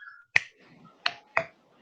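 Three crisp finger snaps close by, the first alone and the next two coming quickly one after another, each bright and sharp against a quiet room.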